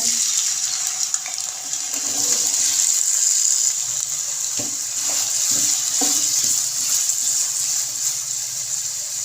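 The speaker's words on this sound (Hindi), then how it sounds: "आलू को 1 से 2 मिनट तक हमने फ्राई होने के लिए रख देना है।" Half a kilo of small potato cubes frying in hot oil in a kadai, a steady bright hiss with occasional soft clinks and stirring knocks, close and continuous throughout.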